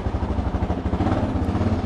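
A Honda NX Falcon motorcycle engine runs close by with a rapid, pulsing single-cylinder thump and mechanical clatter, steady and loud with no talking.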